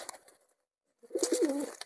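Fancy pet pigeons give a single short, close coo after a brief quiet gap, preceded by a faint rustle.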